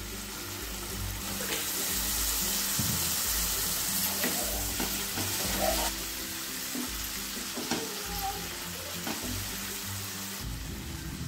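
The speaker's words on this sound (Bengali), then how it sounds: "খুব অল্প পরিমাণ এখানে জল দিয়ে দেবো, মশলাটা যাতে পুড়ে না যায়।" Masala frying in a pan for masala mushroom sizzles steadily throughout after a little water is added, a continuous loud hiss with faint clinks of stirring.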